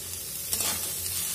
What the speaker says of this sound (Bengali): এখন যে বেগুনগুলো আছে বেগুনগুলোকে দিয়ে আবার একটু ভেজে নেব।